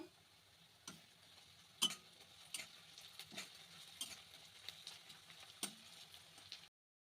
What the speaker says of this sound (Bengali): ভাজার সময় 3টে শুকনো লঙ্কা দিয়ে দিলাম।